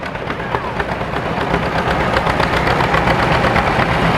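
A John Deere LA two-cylinder tractor built at Waterloo runs at a cotton gin festival, giving a loud, steady, close-up engine rumble with rapid knocking beats throughout.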